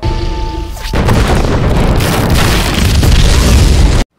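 A loud explosion from a film as an explosive charge is fired, a thunderous boom that erupts suddenly and rolls on as a sustained roaring blast before cutting off abruptly.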